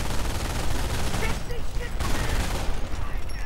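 Dense, continuous MG42 machine-gun fire in a Company of Heroes battle, mixed with other gunfire and explosions as a steady roar, with a commentator talking over it.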